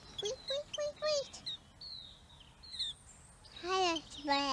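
A little bird chirps in a series of short, bright tweets and warbling whistles in quick bursts, close and clear, with a brief pause mid-way before the chirping resumes.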